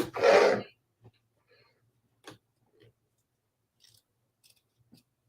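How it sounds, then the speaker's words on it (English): Small hoop scissors mini snip close to embroidery stitching, a few faint, sparse clicks and cuts spread over several seconds in a quiet room after a short burst of sound at the start. "I'm using the hoop scissors mini to trim close to that stitching"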